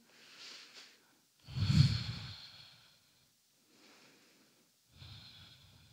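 Slow breathing held in a vinyasa yoga pose: a few soft breaths, one fuller audible exhale near the middle, separated by quiet pauses.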